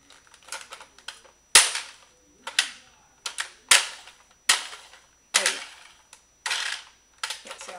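A Nerf Maverick toy blaster fires in a series of about nine sharp plastic snaps, spaced irregularly with short pauses between them, close to the microphone and loud against an otherwise quiet room.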